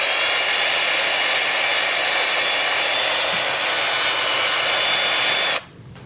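Sanding a hard wood vase on a lathe, a steady loud broadband whir and hiss running continuously until it drops off abruptly near the end.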